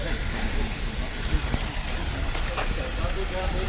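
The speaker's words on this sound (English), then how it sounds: "Just coming up to the steam train" Steady broadband hiss from a steam train on the line to Alnwick, continuous and fairly loud throughout with low rumble beneath and faint voices in the background.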